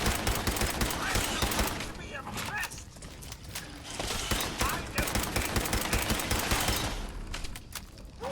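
Gunfire aimed at a Mirelurk in Fallout 4, loud repeated rapid shots and bursts with clattering mechanical noise, mixed with voices talking over the fight.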